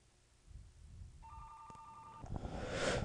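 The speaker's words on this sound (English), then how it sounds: "my phone's ringing, hold on." A phone ringing nearby with a steady electronic tone that starts partway in, joined by muffled handling noise and rustle as it grows louder toward the end.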